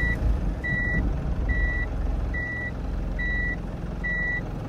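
A Mitsubishi Delica D:5 Jasper CV1W backs up slowly along a narrow forest track, giving six evenly spaced electronic reversing beeps over a low, continuous engine rumble, heard close with no talking.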